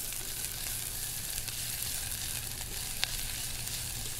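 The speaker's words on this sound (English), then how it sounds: "we're going to give this a quick stir" Ginger and pumpkin cooking in a pot for pumpkin bisque, a steady, moderately loud sizzle with faint stirring and a single sharp tap partway through.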